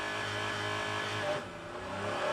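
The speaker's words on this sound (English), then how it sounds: "So he gets that traction, so he gets the launch, and then you can hear the car just get the traction and go." A BTCC touring car launches from pole at the start of a race at Brands Hatch GP, its engine a loud sustained roar that dips briefly mid-launch and then climbs again as it gains traction and pulls away.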